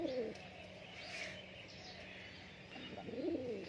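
A standing tumbler pigeon from Murshidabad, held in the hand, gives soft, low cooing calls at the start and again near the end. The calls are faint and close, over quiet background noise.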